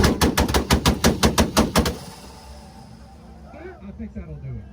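A pink Mazda on two-step launch control fires a rapid, loud string of about a dozen exhaust pops and bangs in quick rhythm, then falls to an idle rumble with voices nearby.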